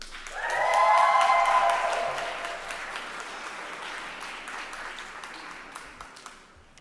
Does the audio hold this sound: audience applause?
yes